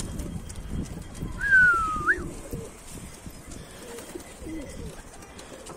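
A pigeon that has fallen into a feed sack gives a single short call, with faint rustling and shuffling around it and no voices.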